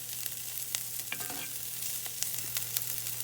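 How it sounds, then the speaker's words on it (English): Broccoli and asparagus sauté in a pan, with a steady sizzle and occasional scrapes and taps of stirring. "we're just going to start sauteing that"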